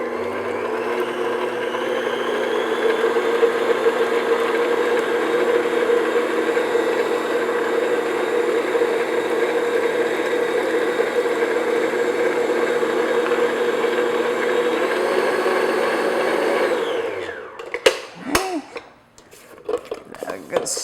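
An electric hand mixer beats eggs into pumpkin spice cake batter with a loud, steady whir for about seventeen seconds, then cuts off, followed by a few clinks of the bowl and beaters.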